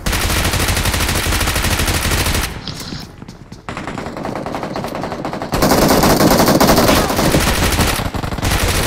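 Sustained bursts of automatic gunfire in the BGMI / PUBG Mobile video game, loud and dense, pause briefly mid-clip, then resume even more intensely for several seconds.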